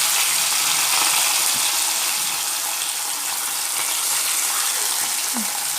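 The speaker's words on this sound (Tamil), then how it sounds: "இப்போ நம்ம மீன் எண்ணெயில் போட்டுடலாம்." Mosapparai fish frying in hot oil over a low flame, a steady close sizzle hissing continuously with faint kitchen clicks beneath.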